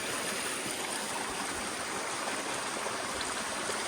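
Continuous rushing of a flowing stream on the Appalachian Trail, a steady even wash of water with no talking.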